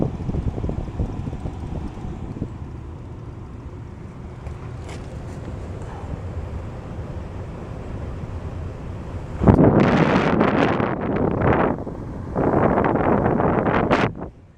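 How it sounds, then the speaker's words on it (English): Wind gusts across a rooftop during a packaged heat pump install, a steady low roar of microphone buffeting that swells into louder, harsher bursts near the end, with no talk. "it's windy up here."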